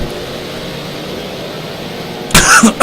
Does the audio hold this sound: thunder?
no